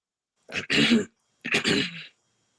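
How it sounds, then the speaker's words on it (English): Two harsh throat clearings in quick succession, close and loud, separated by a brief pause. "I really did have to clear my throat"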